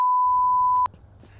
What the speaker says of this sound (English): please beep that